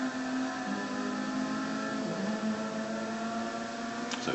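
Racing cars in a video game race, heard as a steady droning engine tone with shifting pitch from several cars, running continuously at moderate level with no talk.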